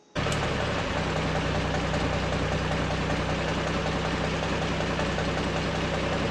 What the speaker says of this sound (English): Like a regular forklift, this mast operates up and down.